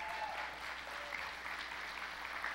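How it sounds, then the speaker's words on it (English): An audience applauds a contestant being called down at an event, a steady, full round of clapping throughout without any voices on top. "Let's give Daniel a round of applause."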